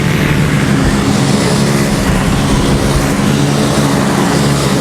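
Race cars in a masters-class super final thunder wheel to wheel up a straight, a dense, loud, continuous engine roar that holds steady without a break.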